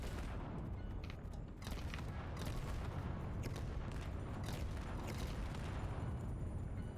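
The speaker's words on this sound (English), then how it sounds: "Did you see this grenade? So let's count the explosions." Rapid string of grenade blasts in the shooter game Borderlands 3, a dense, continuous barrage of booming detonations with crackling bursts layered over one another, loud and sustained throughout.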